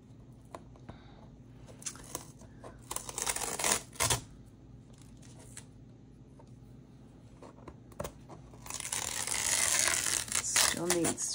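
Tape is peeled off watercolour paper in several bursts of crisp tearing and crinkling, close and fairly quiet, with quiet gaps between and a longer, rougher peel toward the end.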